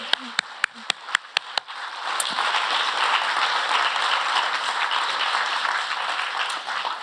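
Audience applause for the CPEX team at a smart growth summit closing plenary. A few loud, separate claps come first, then dense clapping from the crowd swells and continues at a steady, fairly loud level.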